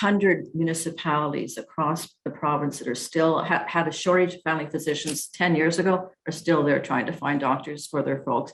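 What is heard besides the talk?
No everyday noises stand out.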